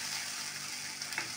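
Ginger and garlic paste sizzles steadily with spices in a pan, a dense unbroken frying hiss with a brief louder crackle near the end, no voices.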